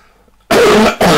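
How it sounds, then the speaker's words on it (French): A close, loud cough, one harsh burst followed quickly by a shorter second one after a quiet moment. "Excusez-moi pour la toux."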